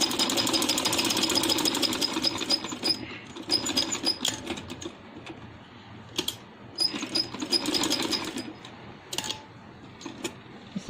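A sewing machine stitches a dress, its fast mechanical ticking running in several close bursts separated by brief pauses.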